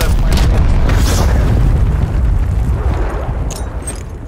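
Heavy explosion from an incoming napalm strike or cruise missile in Call of Duty Black Ops Cold War multiplayer, a loud sustained boom and rumble that fills the moment and slowly fades with some crackle.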